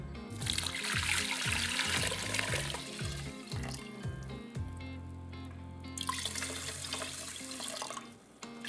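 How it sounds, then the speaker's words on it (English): Tap water runs into rice in a pot for making homemade rice wine, a steady close trickle and splash over a background of music. "Add water to the rice"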